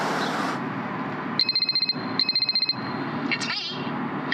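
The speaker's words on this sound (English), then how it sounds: "Come on, answer the phone." A telephone in a radio advert rings in two short trilling bursts, loud and close, over a low background bed, with a brief electronic chirp near the end.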